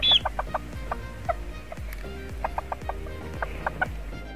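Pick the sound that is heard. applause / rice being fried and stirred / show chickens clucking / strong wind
show chickens clucking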